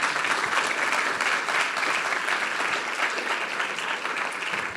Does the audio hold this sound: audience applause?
yes